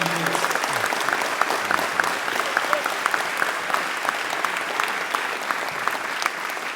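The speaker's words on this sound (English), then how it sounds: "Let's give Mr. Rivers a round of applause." An audience gives a sustained round of applause at an education hall of fame induction ceremony, dense clapping that stays loud and even throughout, with a brief voice at the very start.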